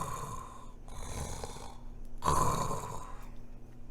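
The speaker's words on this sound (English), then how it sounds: "Remember, the giant is snoring." A storyteller voices a sleeping giant's snoring, producing three drawn-out, rumbling nasal snores with pauses between them, fairly quiet and close.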